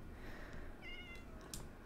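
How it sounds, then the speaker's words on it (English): A kitten meowing in the video game Minecraft, one or two short, soft meows over a quiet background hiss, faint and with no talking. "Look at how cute that kitty is"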